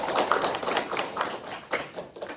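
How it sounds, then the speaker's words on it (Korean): Scattered hand claps from a small audience at a Buddhist college lecture, a loose, uneven run of individual claps rather than a dense ovation, fairly close and clear. "오늘 강의해준 주인님께 감사의 박수 부탁드리겠습니다"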